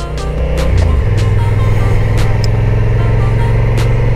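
A 2022 Honda NT1100 motorcycle rides along a road, its engine droning loud and steady from close by, with a gear change in the first second before settling into a constant hum.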